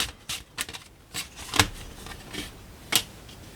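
Tarot cards being shuffled and dealt: a string of crisp, papery flicks and riffles, with two sharper snaps standing out, close and fairly quiet with no talking.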